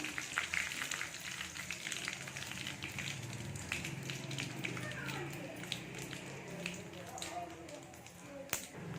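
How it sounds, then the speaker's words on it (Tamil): Mustard seeds crackle and splutter in hot oil with four dried red chillies and curry leaves. There is a steady busy sizzle with sharp pops scattered through it, and a voice talks over it. "4 வரமிளகாய், கருவேப்பிலை. நல்லா கடுகெல்லாம் பொரியட்டும்."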